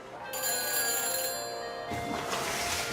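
A phone rings after a number is dialed in a Back to the Future video game, a bright electronic ring that sounds clearly and then gives way to a burst of noisier sound near the end.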